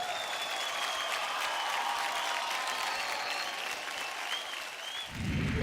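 Sustained applause from an audience fills the space, dense clapping at an even level, with a brief low thump near the end.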